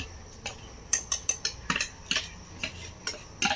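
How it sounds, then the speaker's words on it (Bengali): Semolina being poured into a mixer grinder jar gives light ticking, tapping and clinking sounds in short uneven bursts, close and fairly clear. "সমস্ত সুজিটাই আমি এর মধ্যে দিয়ে দেবো"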